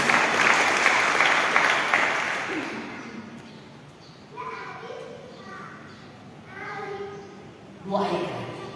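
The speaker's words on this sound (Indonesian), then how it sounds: "Tepuk tangan untuk Tuhan Yesus." Congregation applause during a Sunday church worship service, a dense burst of clapping for the first few seconds that fades out, followed by a preacher's amplified voice.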